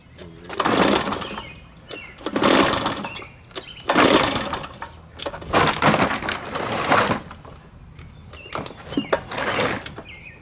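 A Shindaiwa backpack leaf blower with a possible fire-hazard fault is cranked repeatedly by pull cord, giving about six loud rasping bursts with short pauses, and the engine never catches.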